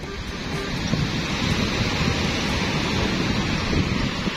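Sea waves break and wash on the shore in a dense, steady roar, close and fairly loud, with no voices.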